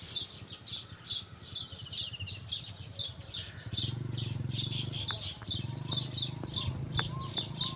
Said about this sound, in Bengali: সেই পাখিতে কিচিরমিচির করে ডাকতেছে, ডাকগুলো খুবই সুন্দর লাগতেছে